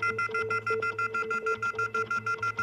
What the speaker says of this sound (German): Super, es schlägt Alarm.